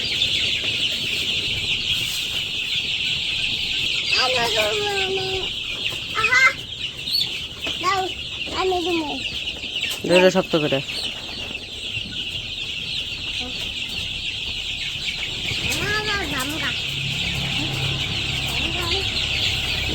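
Village chickens cluck in short, scattered bursts of close, throaty calls over a steady background hiss, with a person briefly speaking in between.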